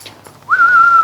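A vet at Randwick racecourse whistles to a racehorse to make it urinate for a post-race test: a short breathy lead-in, then one steady, sustained mid-pitched whistle held close and clear against a quiet background.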